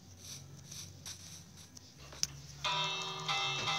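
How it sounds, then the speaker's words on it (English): A village bell rings during a raid in a video game, faint metallic clangs early on followed by a brighter sustained ringing tone over the last second, with background game noise throughout. "Stop ringing the bell."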